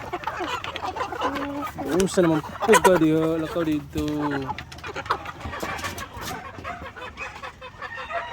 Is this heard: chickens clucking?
yes